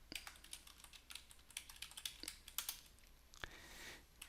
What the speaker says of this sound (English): So I'll go ahead and put in my password